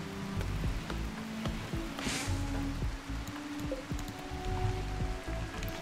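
Rainfall in the video game RimWorld hisses steadily in a brief stretch, mixed with low tonal background sounds and a few soft ticks, with no voices.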